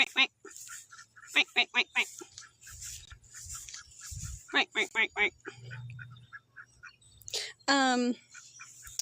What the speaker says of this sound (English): Look, there's ducks. Hi, duckies.